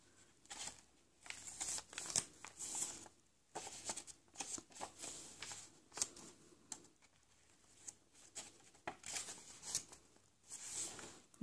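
Tim Holtz Wallflower paper and spare kit pieces for a garden altered-book junk journal being shuffled and handled up close, with repeated soft rustling bursts and light taps, no voices.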